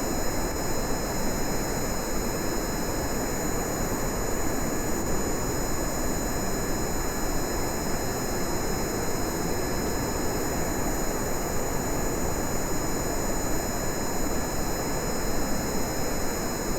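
Propeller aircraft engine in a video game, a steady droning roar holding constant and fairly loud throughout with no talking over it.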